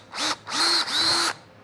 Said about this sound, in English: You'll take a drill bit. I want to put this on the very end here